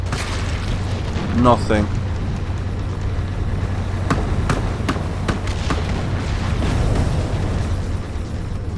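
Explosive rounds fired in Call To Arms during a War of the Worlds tripod city invasion: several sharp, spaced cracks and bangs over a constant low rumble of battle, with a voice speaking briefly partway through.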